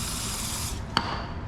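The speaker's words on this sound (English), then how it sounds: "Spray with some penetrating oil." Penetrating oil hisses from a spray can onto a new cold air intake filter on a 2009 Nissan 370Z 3.7L V6, a continuous close spray ending abruptly, then a brief click.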